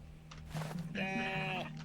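Goats in the video game Contraband Police bleat in a short, wavering cry that rises over a steady low hum, fairly close and clear.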